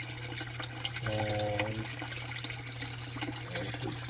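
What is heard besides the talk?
water draining through aquaponics bell siphon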